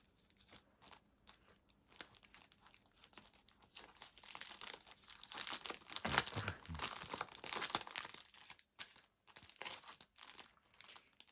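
Die-cut paper shapes being unwrapped from their packaging, with close crinkling and tearing of plastic or paper that builds to a louder rustle midway, then softer intermittent handling. No talking.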